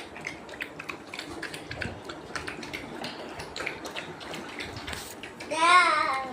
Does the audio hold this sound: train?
no